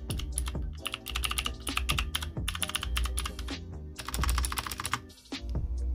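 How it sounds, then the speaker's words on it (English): Rapid typing on a full-size mechanical computer keyboard, close and crisp, with irregular clattering keystrokes and occasional heavier thocks from larger keys running steadily throughout, no voices. "It's a mechanical keyboard."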